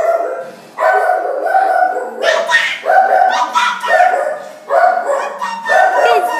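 A dog barks repeatedly in loud, close, drawn-out yowling barks with short pauses between them, with no talking.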